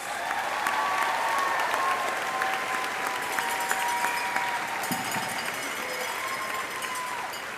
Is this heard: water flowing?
no